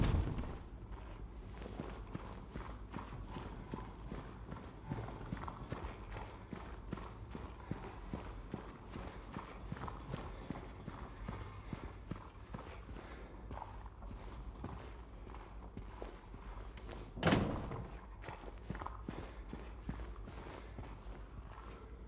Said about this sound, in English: Sounds like a horse. Our footsteps.